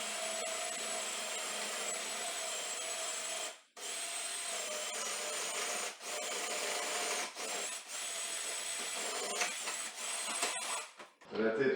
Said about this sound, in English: I'm actually going to drill a hole of a 3/4 of an inch hole for 50 amps